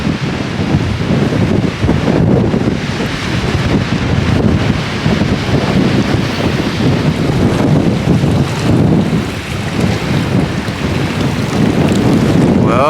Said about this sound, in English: It is quite windy.